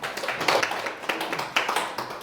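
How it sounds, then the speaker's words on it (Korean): Audience in a lecture hall giving a short round of applause, a brief patter of scattered claps with a few sharper hits, fairly faint and moderately close. "박수 한번 주세요."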